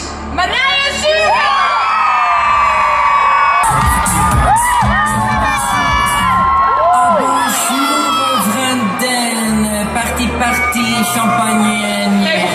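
At an awards show in AFAS Live Amsterdam, a large crowd cheers, whoops and applauds the winner of best woman 2019. The roar stays loud and continuous over music, with high shrieks rising above the din.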